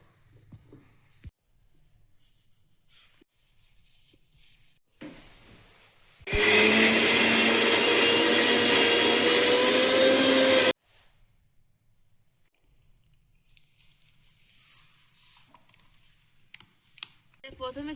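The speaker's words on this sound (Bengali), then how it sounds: "সিমটা একেবারে বেটে নেব।" A kitchen blender grinds flat beans into a paste, a loud steady whir running for about four seconds, with quiet room sounds before and after.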